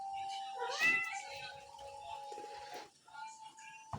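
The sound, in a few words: cat meowing on top of a fridge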